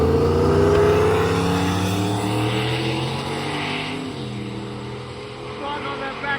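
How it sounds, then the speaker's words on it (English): Turbocharged drag racing vehicle accelerates down the strip with a loud droning engine and a high turbo whistle, the pitch climbing before a shift and then fading into the distance. "You can hear the turbo spooling."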